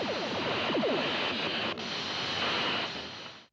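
Skeleton beam effect from the 1953 War of the Worlds film, a hissing, echoing wash with quick descending sweeping chirps near the start and a sustained airy roar that cuts off at the end.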